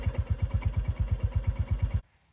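A 2024 Royal Enfield Bullet 350 idles with its signature slow, even thump, about seven beats per second, close and clear for two seconds before the sound abruptly cuts to near silence.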